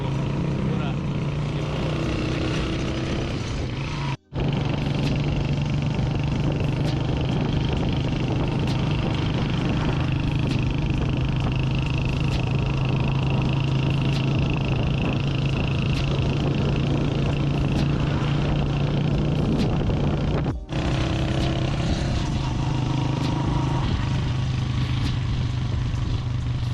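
Motorcycle ridden along a mountain road in Hopper Valley, Ghizer, Gilgit-Baltistan: a steady, close engine drone with wind rush runs the whole way, broken by two brief dropouts.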